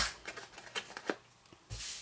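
Card stock being cut for a small box holder, heard as a quick series of close, crisp snips and papery rustles, ending with a louder, longer rustle.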